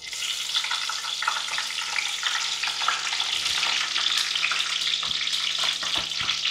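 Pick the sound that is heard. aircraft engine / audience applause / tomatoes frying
tomatoes frying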